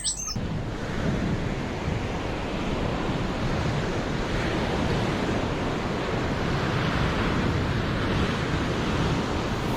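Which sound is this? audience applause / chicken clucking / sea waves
sea waves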